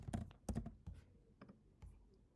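Typing on a computer keyboard while entering text into an n8n workflow, a few quick clustered key taps followed by sparser single clicks, close and quiet with no talking.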